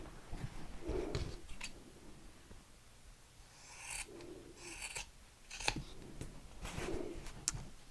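Scissors snipping through fabric for a handmade snowman, a few crisp cuts and rasping strokes spaced out, close and quiet with no talking.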